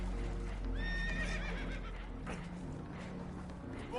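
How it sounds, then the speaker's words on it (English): Spooked horses whinny and neigh shrilly aboard a boat taking on water in the video game Red Dead Redemption 2, several rising calls with clip-clop hoof sounds under a steady low rumble. "Horses are spooked, and we're taking on water."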